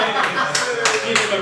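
A small comedy-club crowd claps after a punchline: a few scattered, separate claps spaced apart rather than a full ovation, fairly close by.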